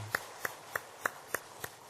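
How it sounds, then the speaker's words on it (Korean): A church congregation at a Sunday worship service claps in unison, giving seven evenly spaced, crisp claps that sound quiet and somewhat distant. "하나님께 영광의 박수를 드리겠습니다"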